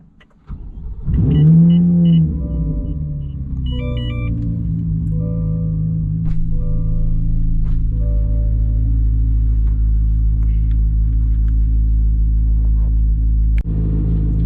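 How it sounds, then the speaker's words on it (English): Chevrolet Corvette C8 Z06 with an aftermarket FabSpeed exhaust on twisty mountain roads, a loud close engine that blips and revs hard, then settles into a deep, sustained rumbling drone with no talk. "let's go for a little drive in the mountains"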